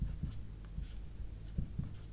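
A pen scratches out numbers on paper or a board during a maths lesson, short scribbling strokes coming in quick uneven bursts, close and fairly quiet.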